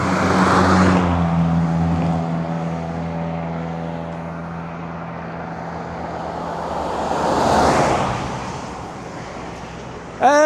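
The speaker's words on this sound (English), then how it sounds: "There's another 2 cars coming up the pass now." Several cars climbing a mountain pass road in the Karoo, their engines swelling into a loud roar as each passes close by, then fading, with a steady traffic hum between passes.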